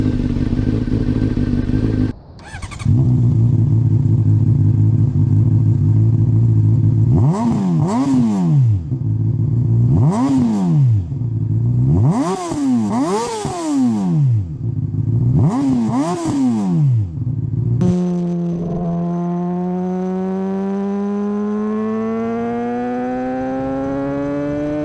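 A 2007 Honda CBR600RR sport bike starts on its electric starter and idles, then revs sharply in several rising and falling bursts before settling back, loud and close, with no talking.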